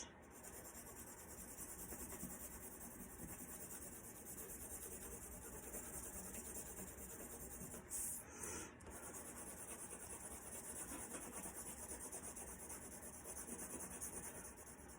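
Pencil shading on paper, a quiet, steady scratchy rubbing that continues nearly unbroken, close up and faint, with a brief interruption midway.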